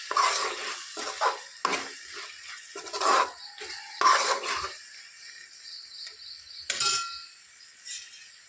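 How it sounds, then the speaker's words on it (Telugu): A spoon stirs capsicum curry in a pan, its oil risen to the top, giving repeated short scraping and sizzling bursts with brief pauses between strokes, close and fairly soft, with no talking. "ఇప్పుడు మరొకసారి కలుపుకొని"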